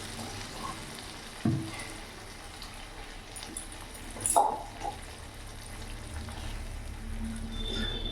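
Water poured into sizzling masala in a pan for a brinjal curry, giving a steady frying hiss with a sudden splash and bubbling surge midway, close and continuous, without talking.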